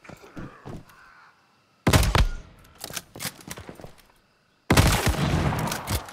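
Gunfire from a weapon in the survival shooter Once Human: a short, loud volley, a few separate shots, then a sustained rapid burst, with quiet gaps between. No one talks.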